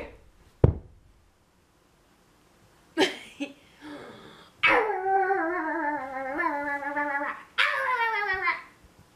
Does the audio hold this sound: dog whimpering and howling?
yes